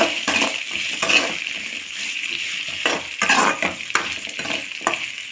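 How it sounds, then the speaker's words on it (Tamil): Chopped big onions and three green chillies sauté in a pan for a village-style chutney, with a bright continuous sizzle broken by repeated spatula stirs and metallic scrapes against the pan. "பெரிய வெங்காயத்தை இது போல் பொடி பண்ணி போட்டுருங்க மூணு பச்சை மிளகா இப்போ இது கொஞ்சம் வதங்கணும்"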